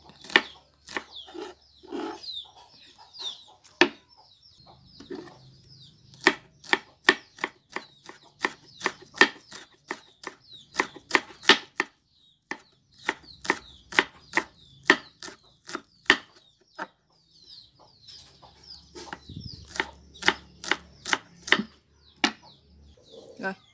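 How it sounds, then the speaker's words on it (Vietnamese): A knife finely chops green onions on a cutting board in a home kitchen, with rapid sharp taps in bursts and short pauses, close and crisp. "Xắt nhuyễn ra đi các bạn."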